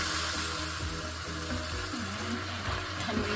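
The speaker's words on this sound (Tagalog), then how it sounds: "Hayaan lang natin ma-saute yung ating pork." Pork sautéing in a pan with soy sauce and sugar for Pinoy pork teriyaki gives a steady, close sizzle and faint stirring scrapes, with no talk over it.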